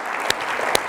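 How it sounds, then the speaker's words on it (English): Brief, steady applause from an audience at a voice-industry gathering honoring an events committee, a dense wash of clapping with two sharper claps standing out. "We'd like to give you a round of applause."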